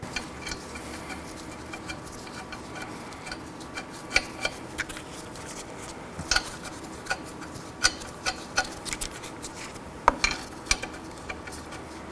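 Five lug nuts being threaded back onto a rear wheel hub of a 2013-2019 Nissan Sentra, faint scattered metallic ticks and clinks at an irregular pace over a quiet background.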